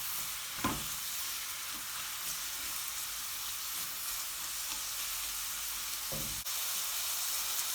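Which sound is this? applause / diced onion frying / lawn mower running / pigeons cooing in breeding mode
diced onion frying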